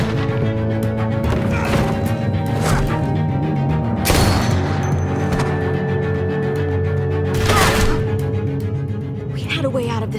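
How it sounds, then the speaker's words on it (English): Gunfire in The Walking Dead: A New Frontier video game: a few sharp, loud shots crack out at irregular intervals over a dense, tense soundtrack bed, with characters talking throughout. "I hear gunfire."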